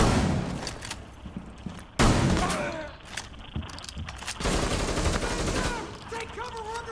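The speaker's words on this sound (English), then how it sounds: "Take cover, we're under fire!" Gunfire in the Rainbow Six Siege video game, loud bursts of rapid shots and booms with a sharp crack near the two-second mark, mixed with game effects and voices talking throughout.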